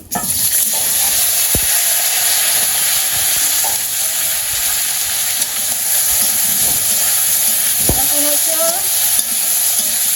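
Cumin seeds and bay leaf sizzle steadily in hot oil for a village-style rohu fish curry with potato and eggplant, a constant bright frying hiss with a couple of brief clinks, no voices.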